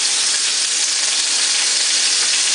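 Ground beef patties cooking on a burner give off a loud, steady sizzle that fills the whole stretch without a break, with no voices over it.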